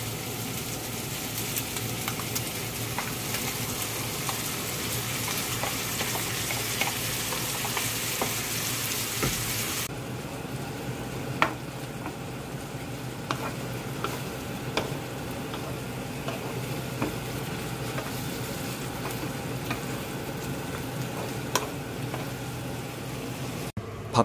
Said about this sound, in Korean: 먹기 좋게 다진 깍두기와 배추김치를 넣고 볶아주세요.